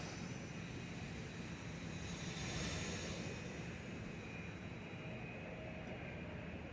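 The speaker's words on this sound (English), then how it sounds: "if you walk around, you can hear the outlet here for the blower and the inlet sound different" Steady broadband air rush from the blower outlet and inlet of an Airbus A321 with CFM engines on the ramp, a continuous, fairly faint whooshing hum with no talk.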